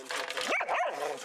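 Australian Cattle Dog puppies bark and yip in short rising-falling calls, close and fairly loud, over steady background noise.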